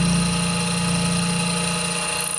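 A shop machine spindle turns at about 1700 RPM while set up for an oil tank repair, giving a steady, loud mechanical hum with a constant low drone that continues unchanged throughout.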